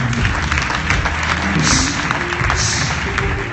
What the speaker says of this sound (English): clap your hands to the name of the Lord